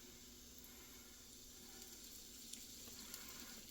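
Yorkshire pudding batter poured into small hot pans, giving a faint, steady sizzle and hiss with a few soft ticks, quiet and continuous with no voices.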